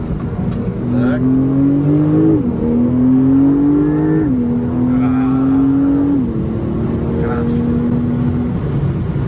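A Porsche 911 Turbo S with a rear-mounted engine accelerates hard through several gears, each rising tone dropping at a shift, loud inside the cabin while people talk over it.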